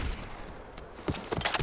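Bursts of shotgun fire in a video game crack out irregularly over a dense, noisy battle background, with several sharp blasts clustered toward the end.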